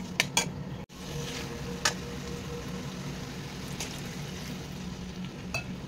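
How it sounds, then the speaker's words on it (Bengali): Brinjal, potatoes and prawns with banana flower are stirred in a sizzling pan; a spatula clinks sharply against the metal a few times early on, then a steady frying hiss carries on. "এবার আমি ভালো করে সব কিছু কষিয়ে নিয়ে অল্প কিছুটা গরম জল দেবো"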